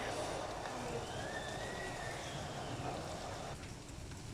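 Steady, heavy rain pours down continuously at night with thunder, a dense broadband hiss with low rumbling underneath; no voices.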